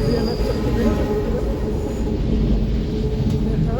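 A Paris metro train runs with a steady, close, enveloping rumble, a faint high wheel squeal threading through it, and no break for the whole stretch.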